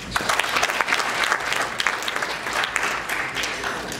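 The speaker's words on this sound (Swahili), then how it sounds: "Tuwapigie makofi." An audience applauds at a public ceremony honouring a distance runner, with steady, dense clapping that stays loud and full for the whole stretch.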